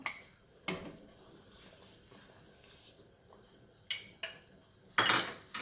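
Ladle scraping and clinking against a pot while skimming fat from simmering galbitang (beef short rib soup) broth, with a few sharp metallic knocks spaced apart and a quiet bubbling background between them.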